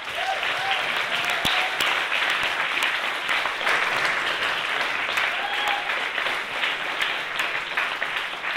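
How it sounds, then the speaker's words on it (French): Warm audience applause for a speaker named Marianne at a live talk event, a full steady sustained round of clapping from a crowd, loud and continuous throughout. "Je vous demande d'applaudir très, très chaleureusement Marianne"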